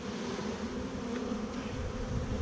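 A dense, steady buzz of many honeybees surrounds a brood frame being shaken from a hive, close and continuous without a break.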